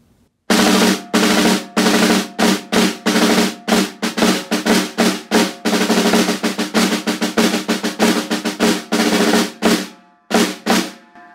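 A snare drum plays a short march, with crisp, loud strokes in a steady rhythm of rolls and accented hits, close and alone, ending in a few final beats.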